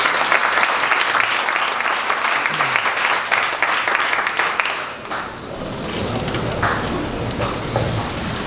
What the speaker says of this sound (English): One more round of applause for Don Smith and his son.